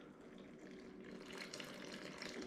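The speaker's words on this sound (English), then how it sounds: "So we're just going to go ahead and add our water." Water pours into a bowl of same-day pizza dough mix with salt, a steady running, splashing stream that builds slightly louder toward the end, heard alone and close.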